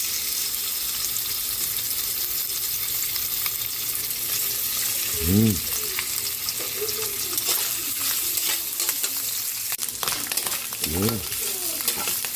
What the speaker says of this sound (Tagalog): Prito natin yung ating pork.